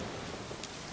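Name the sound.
rain in a forest, from a video game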